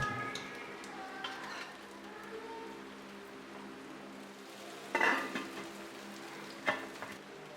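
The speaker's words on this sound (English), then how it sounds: "Add the chopped tomatoes and mix." Chopped tomatoes being added to a curry base and mixed in a pan, giving a soft sizzle with scraping stir strokes and a couple of sharper clinks of a utensil against the pan.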